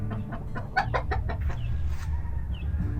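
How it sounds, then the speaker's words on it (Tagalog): Native chickens on a poultry farm cluck and squawk in a rapid, busy series of calls close by, over a low rumbling background, with no talk. "Pansin ko, ang ganda ng lahi ng manok."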